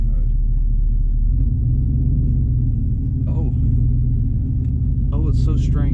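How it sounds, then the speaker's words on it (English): A Ford work truck making over 600 horsepower, driven in sport mode, gives a steady low engine rumble heard from inside the cab, with brief voices near the end. "it's so strange driving a truck that doesn't sound like a power stroke"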